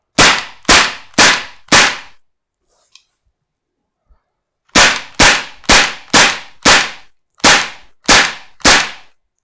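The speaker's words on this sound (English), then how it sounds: "slide the bolt forward, and we can fire." Tokyo Marui MP7A1 airsoft gun with an upgraded maple inner barrel fires sharp, close, loud snapping shots, four in quick succession, then a pause with a faint click, then seven more evenly spaced shots.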